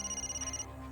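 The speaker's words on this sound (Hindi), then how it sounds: "रात के 2 बजे किसका फोन आया होगा?" Phone ringing at 2 a.m. in a quiet house, a faint electronic ringtone trilling for a moment before cutting off.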